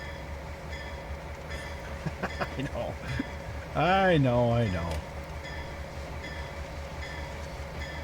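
Freight train in the Trainz 22 railway simulator game rumbling past with a loud, wavering horn-like tonal blast mid-clip over steady rail noise, with someone talking briefly.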